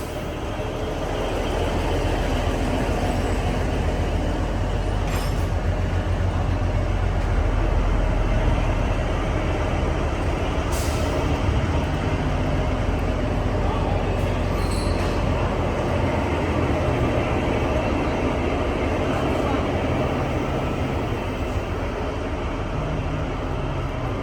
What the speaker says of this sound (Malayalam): നമ്മൾ കൽക്കയിലോട്ട് പോകാൻ പോകുന്ന ട്രെയിൻ ഇതാണ്